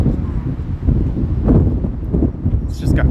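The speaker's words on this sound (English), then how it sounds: "It's just got kind of windy all of a sudden." Wind gusts across the microphone at Echo Beach in Toronto, a steady low buffeting roar near and loud for the whole moment.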